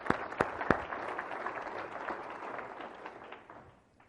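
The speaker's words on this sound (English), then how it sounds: "So give yourself a round of applause." Audience applause after a keynote speech at a VCIA conference: a few sharp, distinct claps open, then dense clapping that gradually fades away over several seconds.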